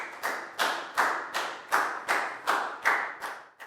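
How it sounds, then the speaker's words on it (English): A class claps in unison for a student during a Year 4 math lesson: about nine sharp, evenly spaced group claps, close and fairly loud, with no talking. "High five and a big round of applause for Pat"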